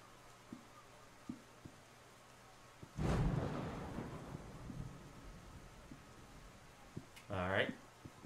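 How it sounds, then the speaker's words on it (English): A crack of thunder during a lightning storm in The Wizard video game, booming loudly and rumbling away over several seconds, with light clicks before it and a burst of voice near the end. "That lightning is crazy."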